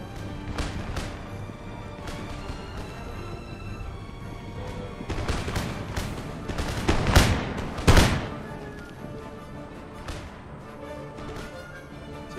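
Musket volleys traded at city walls during a siege battle in Empire: Total War, with men firing down from the walls. Continuous crackle of distant fire builds to a couple of louder, sharper bursts near the middle, then settles back.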